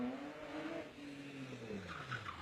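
BMW rally car at Rally Barbados with the front wheels locking under braking, then the engine bouncing against the rev limiter, a short distant mix of tire scrub and harsh revs under crowd noise.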